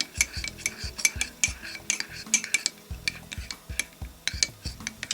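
A utensil stirs pink colorant into a soap mixture in a container, giving repeated rhythmic clinks and scrapes at close range with no voices.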